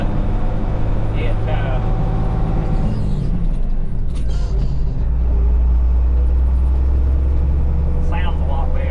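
Truck engine idling and running with its muffler refitted, a steady low rumble heard from inside the cab, rising in intensity toward the end, with someone talking over it.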